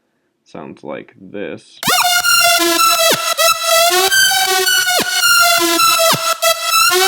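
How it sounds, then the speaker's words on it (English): A frequency shifter build-up and tape-stop effect in a trap track: dense, loud harmonic tones sweep upward, then pitch down and back, over a pulsing beat. A short spoken phrase comes first. "it gives kind of this build up and tape stop effect"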